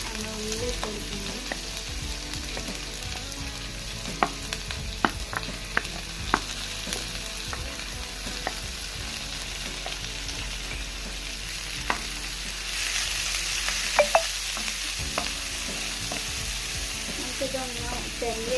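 Ginger paste and onion frying in a pan give a continuous close sizzle, dotted with scattered ladle clicks and scrapes, and the hiss grows brighter and louder in the last third; no one speaks.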